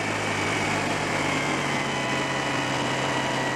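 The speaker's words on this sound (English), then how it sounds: "That's a really good cold start. Of course, it's going to have high idle." A Citroen 2CV engine idles high after a cold start on a snowy day, with a steady, buzzing, fast-ticking drone that holds even and close throughout. No talk is heard.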